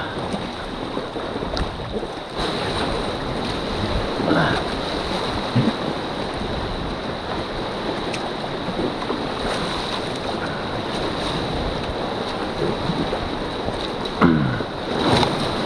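River waves slapping and sloshing against a raft on the Indigirka, continuous broadband splashing with wind noise and occasional sharper water hits, no voices.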